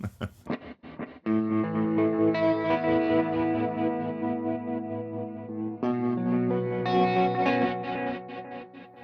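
A distorted electric guitar through Native Instruments Guitar Rig 7 rings out with long, washed reverb trails, sustained chords swelling and blending into a shimmering tail.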